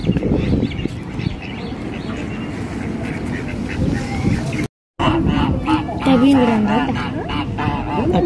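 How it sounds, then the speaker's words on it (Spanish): Geese and other farm birds honk and quack repeatedly at close range, loud and overlapping, with people talking over the calls and a brief cut to silence midway. "Allá va la fila de gansos."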